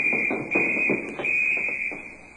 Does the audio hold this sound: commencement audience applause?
no